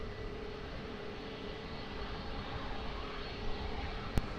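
Airplane taking off from runway 20 at Lisbon Airport, a faint, distant broadband engine roar holding steady throughout, with a brief click near the end.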